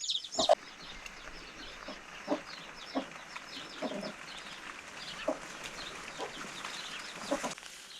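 A chicken clucks in short, scattered calls at moderate distance on a quiet farm, the calls spaced a second or so apart over a soft outdoor background.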